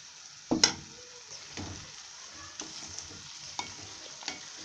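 Chopped tomatoes dropped into a hot pan while making egg kurma, a loud initial hiss, then steady sizzling and frying broken by scraping stirs at intervals.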